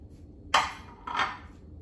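A utensil mixes salmon rice with soy sauce on a plate, giving two short scraping, clinking strokes against the dish, close and fairly soft, with a quiet pause between them and no voices.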